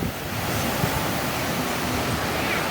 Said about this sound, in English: Wall right here with the waterfall.